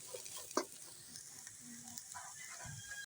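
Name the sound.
green chilies frying in a pan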